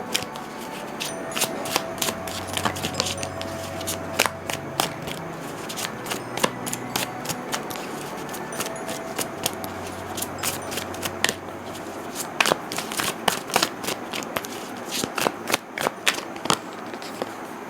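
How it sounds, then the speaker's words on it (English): A deck of tarot cards is shuffled by hand, close and continuous, with crisp riffling flutters and sharp snaps repeating throughout over a steady background hiss. "I'll shuffle this deck to find out what is happening for you"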